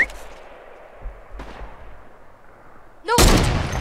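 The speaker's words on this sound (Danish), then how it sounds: "Skud!" Gunfire in the video game Fortnite: a faint sharp shot or two early on, then a loud burst of shots near the end, over quiet game ambience.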